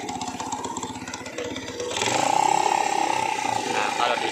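A Jialing motorcycle engine runs close by, idling with a rough mechanical rattle that swells into a louder, steadier drone partway through, while someone speaks over it.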